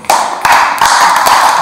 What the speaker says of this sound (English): Shall I clap the hands?